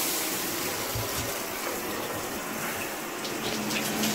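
A bath tap gushes in a continuous, steady stream while a Vizsla dog is washed after a day at the beach, the running water loud and close.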